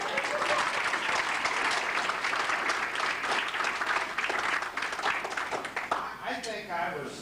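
Loud, sustained audience applause filling the room, many hands clapping steadily throughout.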